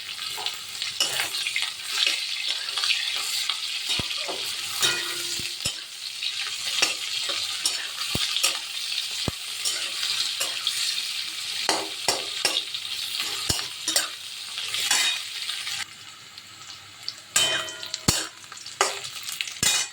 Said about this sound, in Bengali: আলু কিন্তু আলুগুলো কিন্তু বেশ ভাজা হয়ে গেছে দিয়ে দিলাম কাঁচা লঙ্কা আর পেঁয়াজটা